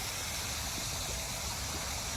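Water from a small natural waterfall on a Texas nature trail near Leander's dinosaur tracks splashes and rushes in a constant, faint, hissing wash with no talk.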